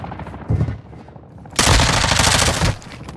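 Video game gunfire breaks out as a burst of firing, then a louder and longer volley of overlapping shots, heavy and close, with no talk over it.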